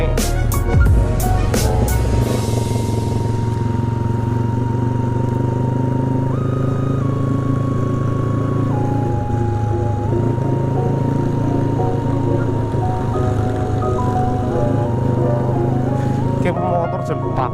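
A Honda Vario motorcycle is ridden with a steady engine drone that shifts pitch several times as it speeds up and slows, loud and close throughout, with voices mixed in.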